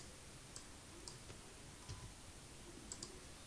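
Quiet computer mouse clicks, a few sparse sharp ticks spaced irregularly over a faint background hiss.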